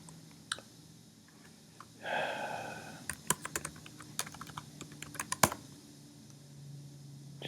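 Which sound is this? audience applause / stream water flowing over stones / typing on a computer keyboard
typing on a computer keyboard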